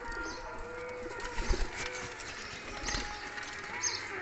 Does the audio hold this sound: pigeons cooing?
yes